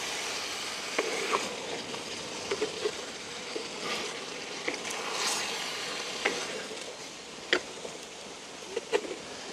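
Tuna fish curry being stirred in a pan in a village kitchen, with a steady soft sizzle and scattered scraping clicks of the spoon, moderately close, no talking.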